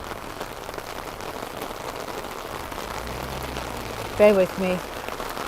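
Steady rain falls on surfaces at an outdoor Christmas market in Mannheim, Germany, a constant patter with low rumble beneath; a person speaks briefly near the end.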